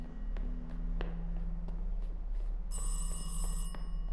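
A telephone rings in the video game Welcome To Kowloon, starting partway through as a bright, steady electronic ring over low ambient hum and a few faint knocks, fairly close and moderately loud, with no talk.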